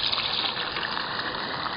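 Water gushes from a green garden hose into an AquaDam water anchor on a tarped roof, a steady close rushing flow without break.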